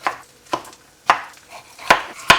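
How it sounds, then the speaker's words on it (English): Knife chopping red peppers into chunks on a board, about six separate cuts at an uneven pace, close and clear with short quiet gaps between strikes. "I'm going to chop the peppers into chunks"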